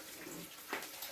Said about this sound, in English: So I am just going to go ahead and finish washing these corns.